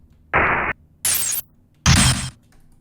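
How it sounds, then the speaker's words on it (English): Three separate bursts of glass shattering, each sharp, loud and close, with short silences between them. "And glass."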